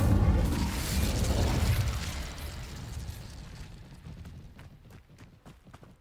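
The Incendio fire spell in Hogwarts Legacy erupts in a loud, rumbling blast that roars for a couple of seconds, then trails off into quieter crackles and scattered knocks.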